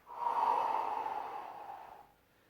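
A single long, steady breath pushed out through the nose and mouth during a Pilates teaser curl-up off the mat, fading away after about two seconds.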